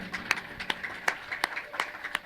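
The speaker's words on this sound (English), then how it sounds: "Give yourselves another round of applause for coming to Dwarven Moss!" A small live audience at a Dungeons & Dragons actual-play event at a fan convention gives a round of applause: scattered, fairly faint individual claps in an uneven rhythm, with some voices in the background.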